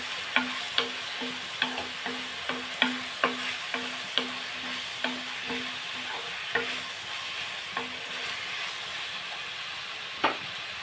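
Spices and onions in an Indian curry pan being stirred with a spoon, rhythmic scraping knocks and clinks repeating every half second or so over a steady sizzle, close and clear with no voices.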